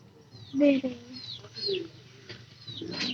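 Pet pigeons coo low and chirp in short bursts nearby, with a voice talking in between.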